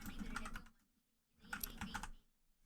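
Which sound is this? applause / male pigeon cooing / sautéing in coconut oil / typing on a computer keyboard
typing on a computer keyboard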